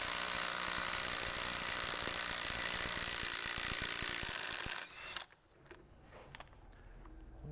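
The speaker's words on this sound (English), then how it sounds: "with an impact gun, loosen up this" An impact gun loosening a fastener on a Mini, a loud sustained mechanical rattle that runs for about five seconds, then cuts off, leaving a few quieter clunks and handling noises.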